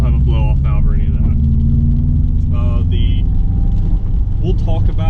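A nearly stock Subaru WRX with a Cobb cold-air intake and Accessport tune, no blow-off valve, pulls hard, its engine a loud continuous rumble with rising revs as someone talks over it.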